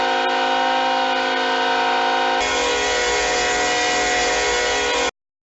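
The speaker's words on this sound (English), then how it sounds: "you can set the horn sounds to be slightly different from each other" A Nathan K5HL horn on an HO scale GE ET44AC Tier 4 model locomotive blows one steady, loud sustained chord for about five seconds, its tone shifting slightly halfway through, then cuts off abruptly.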